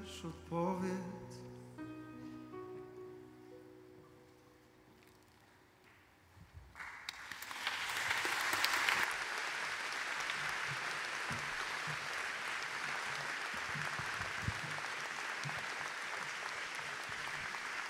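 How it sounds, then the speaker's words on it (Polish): A concert audience breaks into applause after a live song has faded out, the clapping swelling quickly into a dense, sustained ovation that holds steady to the end. "Wielkie brawa."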